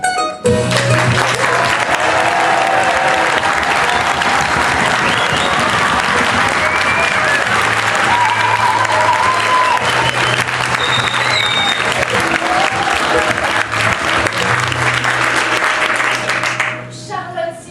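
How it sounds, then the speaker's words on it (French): A theatre audience gives thunderous applause before a play begins, loud and sustained clapping with crowd voices for about sixteen seconds, then it fades out near the end. "Alors faites un tonnerre d'applaudissements."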